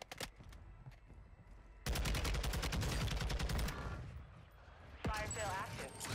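Rapid automatic gunfire from Warzone (MW2) with the two-shot Chimera rifle, a dense burst of sharp shots after a quieter stretch, then more scattered fire and whizzing effects at the end.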